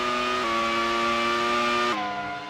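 Two Williams race cars battling closely in the GP4 racing game at the 2003 Hungarian round, a loud steady high-pitched engine whine that shifts down in pitch twice, with no voices.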